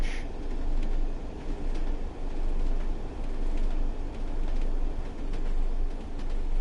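Heavy freight train in Train Sim World 2 on the Northern Trans-Pennine route, running loud and steady along the rails with a constant rumbling roar and faint clatter throughout.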